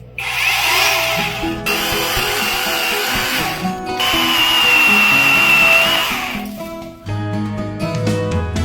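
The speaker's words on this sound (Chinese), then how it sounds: "搞了一把电锯回来，这个开荒太好用了" An electric chainsaw runs loudly in two long bursts with a short pause between, its motor whine steady, clearing brush on a farm, then cuts off as other noises follow.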